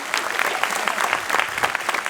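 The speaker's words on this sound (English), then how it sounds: "Round of applause." Audience at a DevFest tech talk giving a loud, dense round of applause, close and continuous throughout.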